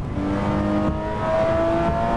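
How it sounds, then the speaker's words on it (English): A car engine hums in the racing game No Hesi, a steady, close drone with clear tonal whine and a slight pitch rise partway through as the car speeds along, with no talk over it. "The car sounds alright."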